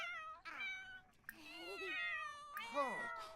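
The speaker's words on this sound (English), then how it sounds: "Look at that cat." A cat in a life-simulation video game meows several times in a row, with drawn-out, rising and falling calls that sound close and clear.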